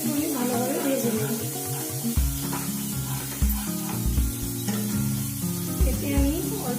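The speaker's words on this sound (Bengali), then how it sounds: "এরপর মশলাটা একটু আমি ভালোভাবে ভেজে নেব" Spice masala with chilli powder sizzles in a pan for a mushroom dish, a close continuous hiss under a strong tonal hum, with a few stirring knocks.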